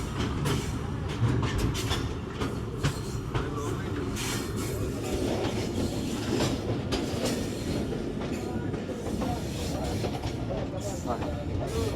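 A Pakistani local train on the Lahore to Shorkot line pulling into a station, a steady loud rumble and clatter of carriages with rail noise throughout and some voices mixed in.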